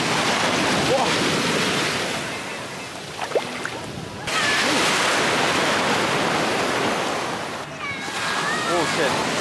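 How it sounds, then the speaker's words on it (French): Big ocean waves crash onto a beach in loud, close, roaring surges of foamy wash, with a brief lull between breakers and gusty wind buffeting the microphone. "Il y a des grosses vagues."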